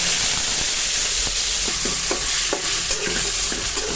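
Shrimp frying in salted oil in a pot, a loud, dense hiss of sizzling right up close, with light scraping taps of stirring over the top.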